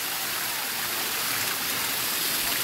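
Steady gush of warm spring water pouring from a pipe at Ardent Hibok-Hibok hot spring in Camiguin, a constant broadband rush with no pauses, close and fairly loud throughout.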